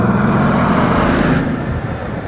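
A car driving hard through tight corners, braking with ABS and understeering on turn-in, its engine and road roar steady and loud, close by and continuous with no talk.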